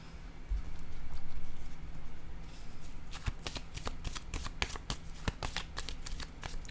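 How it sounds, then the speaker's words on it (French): Tarot cards are shuffled and handled, giving rapid crisp flicks and snaps after a softer rustle, close and moderately quiet, with no talking. "Je vais déposer une carte ici."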